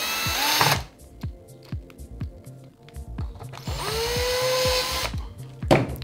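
A power screwdriver whirs in short bursts while removing and refitting the front bumper screws on a WLtoys RC car. The loud, close motor whine alternates with ratcheting clicks and brief pauses, with no voice.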